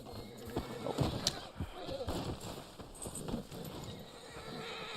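A horse in the Red Dead Online video game gallops with rapid clip-clop hoofbeats and lets out a whinny. The sounds are fairly close and moderately loud, with someone talking over them.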